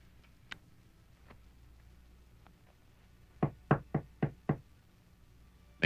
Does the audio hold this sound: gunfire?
no